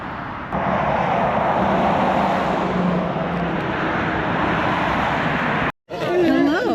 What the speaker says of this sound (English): And this is obviously traffic coming from the Stal Bridge.